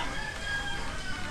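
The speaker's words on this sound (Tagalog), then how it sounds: "Nandun na naman yung mga manok." Chickens and a rooster crowing on a farm near a hut in cold weather, with faint crowing and clucking blended into steady background noise, fairly distant and continuous.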